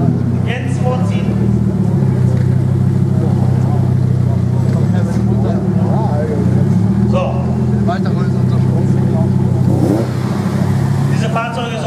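An Audi Coupé Quattro Typ 85 pulls forward at an Audi car meet in Steinfurt, its engine rumbling steadily and close by for the whole stretch, with voices from the crowd around it.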